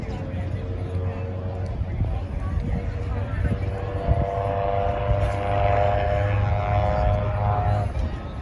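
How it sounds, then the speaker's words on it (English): A propeller-driven STOL racing airplane with a reversible pitch prop, racing at an air show in Columbus, drones with a steady buzzing engine tone that swells slightly, heard under an announcer talking over loudspeakers. "He hardly even needs to use the reversible pitch prop on that yellow airplane with that good headwind."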